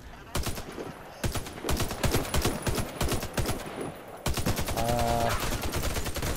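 Bursts of gunfire in the video game Warface crack out in rapid volleys, loud and close, with brief gaps between strings of shots and a player's voice mixed in.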